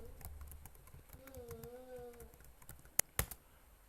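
Computer keyboard typing a username and password, soft scattered key taps, quiet and close, ending with two sharper clicks, while a brief tonal voice-like sound drifts underneath.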